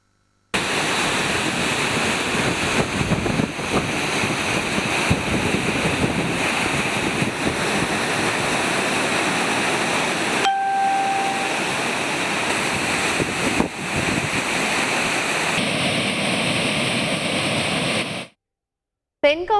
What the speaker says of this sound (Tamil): குற்றால மெயின் அருவியில் தொடர்ந்து இன்று 3வது நாளாக வெள்ளப்பெருக்கு நீடித்து வருகிறது